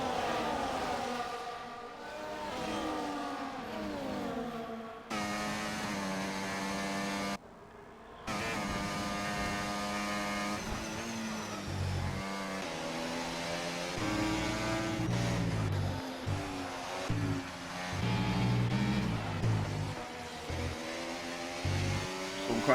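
Formula 1 cars in the F1 24 racing game at the Austrian Grand Prix scream past, with high revving engine whines rising and falling through gear changes and several cars overtaking closely, loud and continuous.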